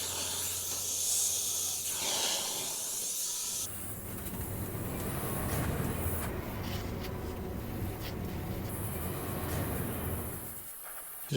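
An airbrush sprays sepia paint through a texture stencil onto a Frankenstein artwork. Continuous close hissing bursts shift in tone as the spray starts and stops, with a brief pause near the end.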